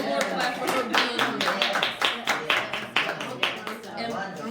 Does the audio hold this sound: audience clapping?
yes